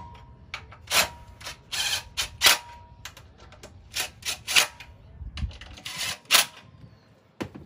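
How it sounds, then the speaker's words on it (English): An impact gun snugging torque converter bolts on a 30 series unit fires short, sharp rattling bursts, about a dozen quick hits spaced irregularly, moderately close with quiet gaps between. "we're just gonna use the impact gun just to snug these up"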